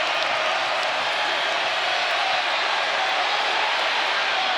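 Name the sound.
crowd cheering at Carter-Finley Stadium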